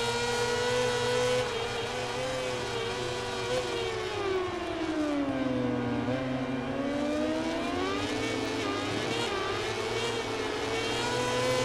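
Motorcycle engine in the MotoGP 18 racing game, a Moto2 bike revving hard in fourth gear, a loud continuous high-pitched whine that sweeps down and back up in pitch, steady and close throughout with no talk.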